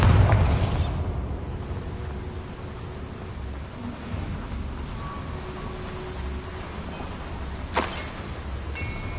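A Bombarda blasting spell explodes in Hogwarts Legacy, a loud broadband boom at the start that decays into a rumbling game ambience, with a second sharp burst near the end.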